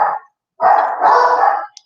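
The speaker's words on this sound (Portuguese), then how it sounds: "tem um latido no fundo" Dog barking in the background of a live video call, one short bark followed by a longer, louder sustained bark, fairly close and clear.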